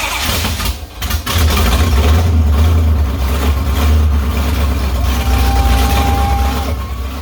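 A project car's engine runs after being fired up, a loud, heavy low rumble that holds steady after a brief dip near the start, with no one talking.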